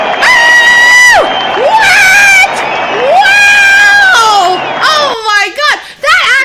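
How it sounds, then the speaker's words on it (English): A canned applause track on a radio show, dominated by loud, drawn-out crowd cheers and whoops that rise and fall in long swells, ending in a burst of choppier shouts. "This is the first introduction of the applause track."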